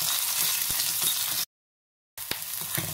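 Chopped onion sizzling and frying in hot oil with crackling cumin seeds, cloves and black pepper for a mixed vegetable dish, a steady close sizzle with a short gap of silence before it resumes.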